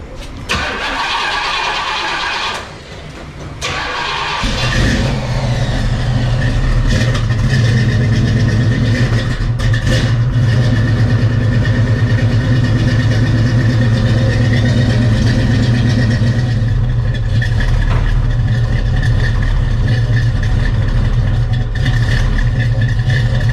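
A barn-find 1971 Pontiac Formula V8 cranks over in a few seconds of whirring, catches, and settles into a loud, steady, rumbling idle close by.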